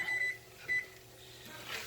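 An oven timer is set, giving two short, high electronic beeps about half a second apart over quiet kitchen background, with no voices.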